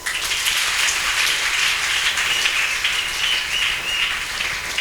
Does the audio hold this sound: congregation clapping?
yes